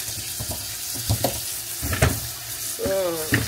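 Vegetables rinsed under a running kitchen tap, water splashing and gurgling in short bursts with handling noises, close and fairly loud.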